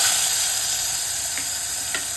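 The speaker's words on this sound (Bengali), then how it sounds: "এখানে ফোড়নের জন্য দিয়ে দেব কালঞ্জি বা কালো জিরে, তেজপাতা আর শুকনো লঙ্কা।" Kalonji seeds, bay leaf and dry red chillies sizzling in hot oil for a Bengali fish curry, a loud close continuous hiss with a couple of faint stirring clicks.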